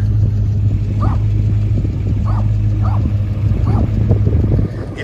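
A small dog at the San Jon motel on Route 66 in New Mexico gives several sharp barks spaced about a second apart, heard over a loud, steady engine rumble from inside a vehicle.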